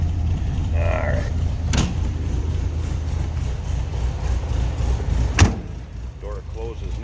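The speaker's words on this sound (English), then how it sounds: "Door closes nicely." The door of a 1980 Volkswagen Beetle shuts with one sharp, solid slam late on, after an earlier lighter latch click, over a steady low rumble of the idling engine outdoors.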